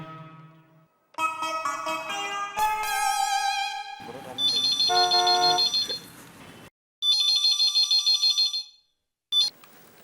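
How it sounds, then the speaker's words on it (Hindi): A phone plays an electronic ringtone melody in repeated bursts, bright and beeping, with short gaps between phrases. "जेठा को फोन करके बुला लेता हूँ।"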